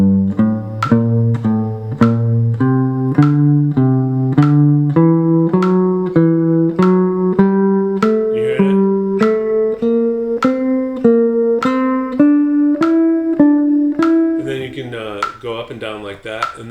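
A G melodic minor scale played on guitar in a steady pattern, two notes per metronome click, ascending and descending in alternating pairs, rising gradually in pitch; plucked notes sound clearly and evenly for the whole stretch.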